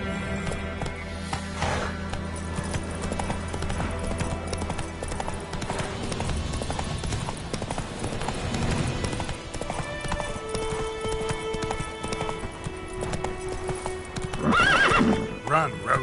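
Hooves of Roach, the horse in the Witcher 3 video game, clatter in a steady galloping clip-clop alongside game music, with a brief whinny near the end.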